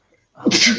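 A single sharp, close sneeze bursts out after a brief silence during a live card-game stream commentary.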